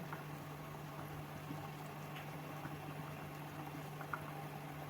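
A pot of lapshi (broken wheat porridge) mixture simmers on a gas stove at full flame, giving a faint, steady bubbling with occasional small pops under a constant low hum.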